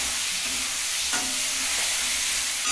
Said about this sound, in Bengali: এটা একটু তেলে ভেজে নিচ্ছি।